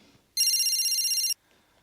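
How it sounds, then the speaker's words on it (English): A telephone rings once with a bright electronic trill lasting about a second, loud and close, set between quiet stretches of room tone with faint background noise. "Alice, it's John on the phone."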